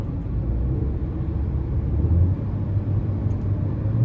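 A 2019 Chevrolet Trax LS with the 1.4-litre turbo engine drones in a low, steady rumble from inside the cabin while it downshifts in manual mode, with the engine note swelling slightly midway.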